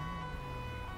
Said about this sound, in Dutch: dat is gewoon een ambulance